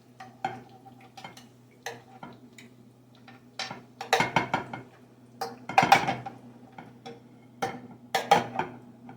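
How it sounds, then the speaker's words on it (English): Bacon is lifted out of a frying pan of grease, with irregular metallic clinks and scrapes of utensil against pan over a faint low hum, close and moderately loud. "you want to take this bacon and you want to take it out of the pan, but you want to leave all the grease"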